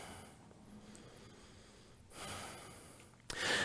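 Quiet breathing during a vinyasa yoga flow, slow inhales and exhales with a soft sniff-like breath, then a louder, sharper breath at the end, close and faint with no talking.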